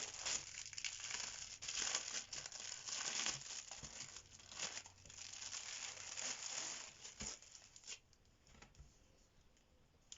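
A cross-stitch canvas is pulled out of its plastic packaging, giving close, continuous crinkling and rustling of thin plastic that quiets toward the end.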